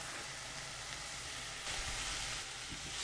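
Rice and sweet peppers sizzle steadily in a pan, a constant close hiss with a slight swell partway through, no voices.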